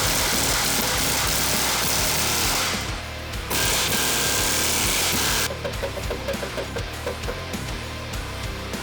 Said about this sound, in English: I take my air chisel and break it loose